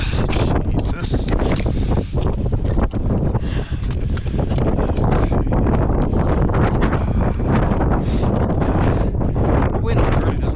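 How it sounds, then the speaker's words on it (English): Strong wind buffets the microphone on a high mountain ridge just below the Mount Hotaka summit in Japan's Northern Alps, a loud, continuous roar with gusty surges and no pauses throughout. "The wind really doesn't help situations here."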